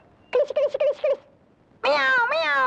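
A nearby cat gives loud meows: a choppy run of short cries, then a pause, then a longer, drawn-out wail.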